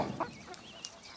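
Meat-bird chickens inside a chicken tractor give a couple of faint, brief clucks over soft outdoor background noise.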